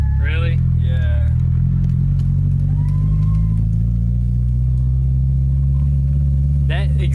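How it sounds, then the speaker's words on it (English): A Honda S2000 fitted with headers and an anti-lag setup idles and revs loudly close by, a deep throbbing engine rumble that swells and holds throughout, with people talking over it. "That exhaust sounds freaking mean also."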